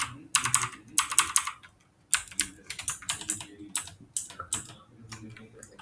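Fingers tapping quickly on a computer keyboard, producing close, crisp key clicks in uneven bursts with a brief pause partway through, alone without talk.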